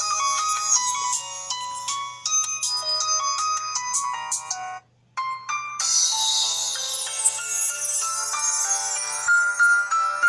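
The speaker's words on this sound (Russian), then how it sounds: "Послушаем звук." Ringtone from a Blackview BV2000 smartphone playing through its speaker: a bright, tinkling electronic melody of rapid repeated notes, loud and close, with one brief pause before the tune continues.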